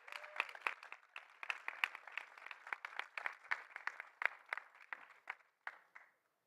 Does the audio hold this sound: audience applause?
yes